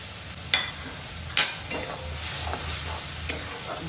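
A spice paste with salt, Kashmiri chilli and pepper for a paneer dish fries in a pan, a low steady sizzle punctuated by a few sharp scraping stirs, close and without talk.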